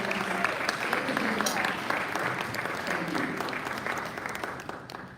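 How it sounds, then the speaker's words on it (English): Sustained applause from a Rotary club meeting crowd at a year-end review, steady clapping with some voices mingled in, tapering off toward the end. "Give them another round of applause."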